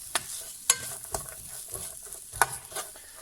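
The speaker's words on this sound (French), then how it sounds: "un petit peu d'huile d'olive ici et le carotte et les oignons et céleri aussi. On va mélanger les trois ensemble." Carrots, onions and celery sweat in olive oil for a lasagne bolognese, a faint soft sizzle broken by a few sharp scraping stirs spaced through the moment.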